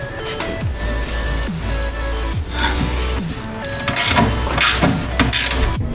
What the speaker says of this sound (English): take a 15 millimeter socket with an extension and a ratchet and pop that off.